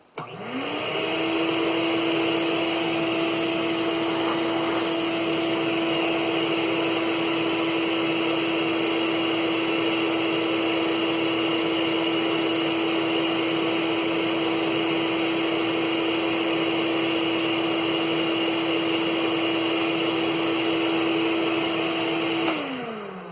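A vacuum cleaner whirs up, runs at a steady, loud, even pitch for about twenty seconds, then winds down.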